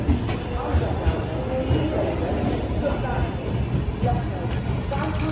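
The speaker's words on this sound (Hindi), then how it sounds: "यहाँ से डिपार्चर हो रहा है कोलकाता जम्मू तवी एक्सप्रेस का।" Kolkata Jammu Tawi Express pulling out of a station platform in India, a continuous rumbling roll of train wheels and carriages with faint squeals, under steady nearby talk.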